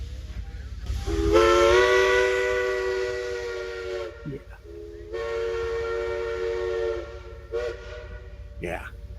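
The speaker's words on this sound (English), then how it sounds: "he's going to blow the whistle in just a moment" Steam locomotive number 16, a narrow gauge engine, sounds its whistle in two long, loud, steady blasts with a short gap between, over hissing steam and low background rumble, followed by a couple of brief toots.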